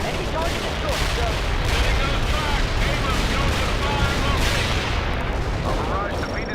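Artillery barrage in the World in Conflict strategy game: dense, continuous rumbling gunfire and blasts rolling on without a break, loud throughout, with voices talking over the battle.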